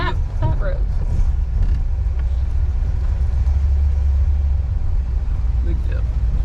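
A 1964 Rambler Ambassador Cross Country wagon rolls along a bumpy dirt road, its steady low engine and road rumble filling the cabin while people talk inside over the noise.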